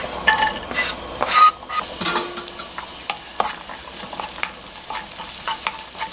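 Ingredients for a potato broccoli soup sauté in olive oil in a pot, a close sizzle broken by frequent spoon stirs and clinks against the pot, with no voices.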